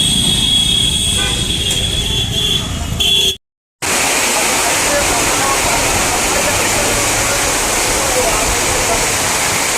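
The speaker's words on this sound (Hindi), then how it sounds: "तो यहाँ लगातार खूब वर्षा हो रही है और हम लोग पानी में फंस गए हैं।" A heavy downpour roars steadily like a waterfall on a town street, with car horns tooting and passing traffic in the first few seconds, a brief cut to silence, then unbroken loud rushing rain.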